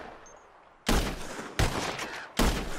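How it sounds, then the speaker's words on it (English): In Red Dead Redemption 2, gunshots ring out during a duel: three loud, sharp reports spaced about three quarters of a second apart, each trailing a short echo, with no talk. "As soon as you see him, start shooting."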